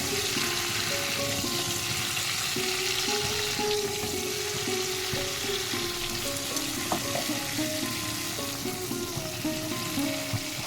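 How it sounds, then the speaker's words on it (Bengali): Mixed vegetables, including pui greens, stir-fried in a wok with tempered spices, giving a steady loud sizzle with scraping stirring strokes throughout and no talk. "সমস্ত সবজিগুলো কড়াইয়ের মধ্যে দেওয়া হয়ে গেছে এবার আমি একটু নাড়াচাড়া করে দিচ্ছি"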